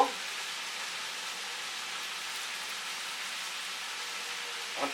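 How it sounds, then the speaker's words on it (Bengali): Potatoes, tomatoes and green chilies frying together in a pan for a dry potato dish, a steady, fairly quiet, even sizzle throughout with no talk. "মিনিট খানে একটু ভেজে নিব"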